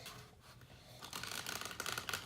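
Tarot cards being shuffled close by, a soft papery riffling that turns brisker and louder midway, with no talk.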